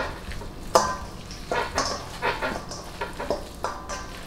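Short ribs searing in a pan for a red wine braise give a low sizzle punctuated by repeated clanks and scrapes as the meat is moved and stirred, close by, with no talk.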